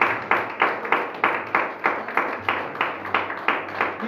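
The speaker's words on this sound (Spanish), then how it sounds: "Dale un aplauso grande al Señor." Congregation applause during a Spanish-language church service: steady rhythmic unison clapping, about three claps per second, even and moderately loud throughout.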